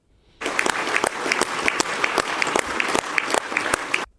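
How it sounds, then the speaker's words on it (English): Russian parliament deputies applaud after officially ratifying a measure, a dense sustained clapping from a large chamber crowd that starts abruptly and runs steadily for about four seconds before cutting off. "that is Russian parliament clapping, applauding after they officially ratify"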